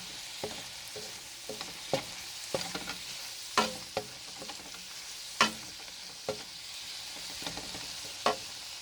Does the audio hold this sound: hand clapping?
no